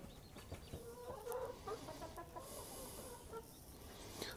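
Chickens cluck and murmur softly nearby in a barn, a few short calls scattered over a quiet background.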